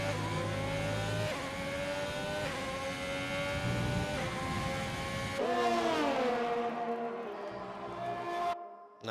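Race car engine at Silverstone in the RSF1 racing game, a loud continuous high-pitched whine rising and falling through gear changes and braking into corners, with a sharp downshift and pitch drop near the end.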